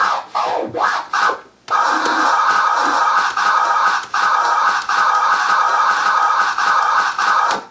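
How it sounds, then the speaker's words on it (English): A DJ works a baby scratch on a turntable record: rapid back-and-forth swipes with rising and falling pitch, loud and close, first in a few choppy strokes, then a dense continuous run of scratches broken by brief gaps. "Baby scratch sounds like this."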